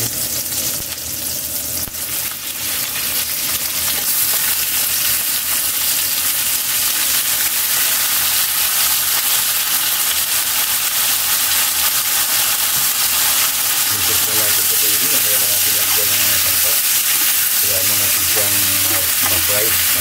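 Chicken gizzards and liver for adobo sizzle loudly in hot oil, a dense steady frying hiss filling the whole stretch, with stirring and scraping in the pan growing busier toward the end.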